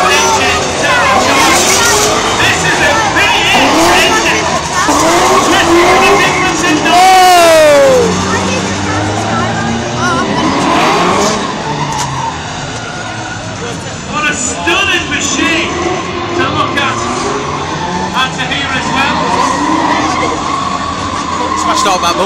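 A V8 car engine roars and revs with tires spinning at an outdoor motorsport gathering, rising whines and loud bursts under a crowd's chatter and nearby talking, fading to a busy hubbub.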